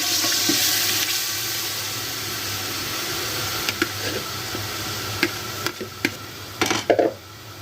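Beef pulao masala mixed with leftover curry being roasted and stirred in a pot, giving a steady watery sizzle with scattered scraping clicks of the spoon that grow busier toward the end.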